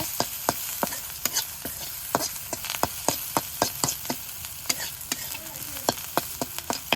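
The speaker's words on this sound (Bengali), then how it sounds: "এই যে পেঁয়াজ আর কাঁচামরিচ সুন্দর করে ভেজা নিতেছি বেরেস্তার নাগাল করে" Sliced onions and green chillies frying in a pan in a village kitchen, a steady sizzle broken by many sharp scraping stirs of the spatula in an irregular rhythm, close and clear, with no voices.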